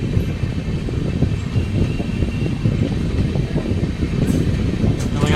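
Hatia–Puri Tapaswini Express rolling out after departing Pokhla station, a steady low rumble and rattle of the moving train carriage filling the whole stretch at an even, close level.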